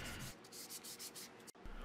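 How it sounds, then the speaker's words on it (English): Close, steady sanding rubs across a wooden table saw push stick in quick back-and-forth strokes, soft and continuous, with a brief break near the end. "now we're going to do some final touch-ups on sanding"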